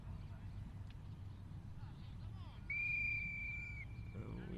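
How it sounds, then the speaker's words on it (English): An umpire's whistle sounds once, a single sustained shrill blast lasting about a second, at a polo match in the Dubai Gold Cup, heard over a commentator's voice and crowd and field ambience. "we've got a whistle on the play there"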